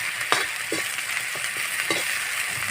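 Green chilli and ginger fry with browned onion in a pan for an Assamese fish curry, giving a steady close sizzle punctuated by light, regular stirring clicks about every half second.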